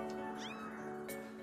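A cat meows in the video game Skyward Sword: two or three short, rising mews over steady, loud game music and ambience.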